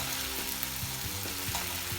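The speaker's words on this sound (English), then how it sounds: "It's got a nice sizzle" Chicken skin sizzles and crackles steadily in hot fat in a pan, a dense close hiss with faint scraping, no voices.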